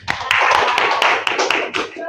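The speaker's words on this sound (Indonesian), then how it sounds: "Kita berikan tepuk tangan yang meriah untuk kelompok 3 dan seluruh kelompok yang sudah tampil" Students in a classroom applaud a performing class group with lively, dense hand clapping heard close up. Sharp clap hits repeat through it, and voices are mixed in.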